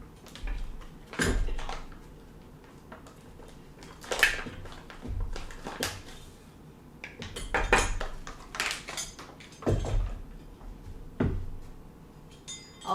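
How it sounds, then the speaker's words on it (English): A utensil stirs flour in a bowl, loosening it, with a series of irregular clinks and scrapes against the bowl, some sharper taps standing out, close by and fairly quiet, with no voices. "You're going to stir that flour up so it's not compacted."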